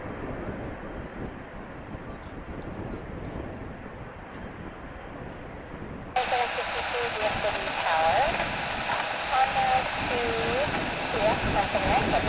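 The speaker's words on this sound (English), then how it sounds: "we're fortunate enough to get to see it taking off from this side on Runway DFW" An airliner takes off from a runway at DFW Airport as a steady low roar and rumble, heard from a distance, that grows louder and broader in the latter half, with a voice talking over it.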